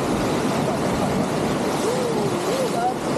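Sea waves wash over black rocks at Tanjung Balau, a steady broadband surf roar that runs throughout, with a faint thin whistling tone drifting over it.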